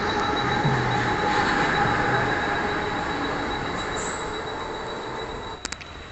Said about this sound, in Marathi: आली आली आली आपली ट्रेन तर आली